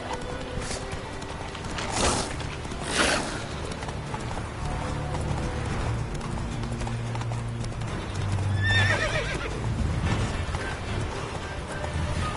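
Horse hooves clip-clop at a steady gallop in The Witcher 3 video game, with a clear neigh and whinny rising near the middle, all fairly close and loud over a low ambient rumble.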